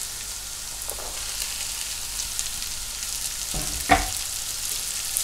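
Chopped red onion frying in a pan, a steady close sizzle throughout with a brief louder stirring burst near the end.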